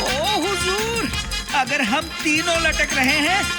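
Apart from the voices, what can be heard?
No everyday noise stands out behind the speech.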